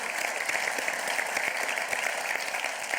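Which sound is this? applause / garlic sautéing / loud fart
applause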